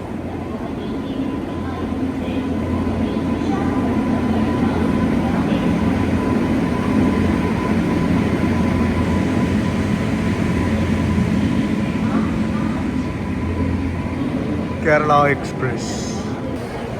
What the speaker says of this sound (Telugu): ప్లాట్ఫామ్ నెంబర్ 2కి ఇప్పుడే కేరళ ఎక్స్ప్రెస్ అయితే వస్తుంది.